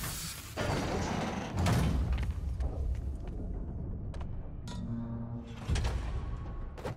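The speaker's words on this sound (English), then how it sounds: "Trap door." A heavy trap door grinding and sliding open in the Marvel's Spider-Man video game, with mechanical thuds, scraping clanks and a rattling metallic slide near the middle, close and loud.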